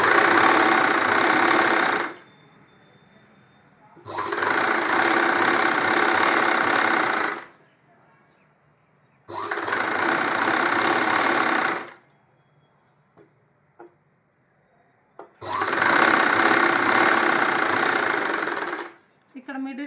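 A sewing machine stitches cloth for a Punjabi pant bottom in four long, fast whirring runs of a few seconds each, broken by quiet pauses where faint handling noises and light clicks are heard.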